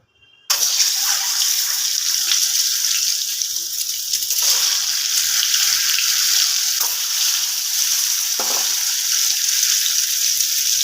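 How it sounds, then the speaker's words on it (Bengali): Eggs dropped into hot oil with turmeric burst into a loud, steady sizzle after a brief silence, an intense close hiss with a few dips, no voices. "ডিমগুলো ভাজা হবে"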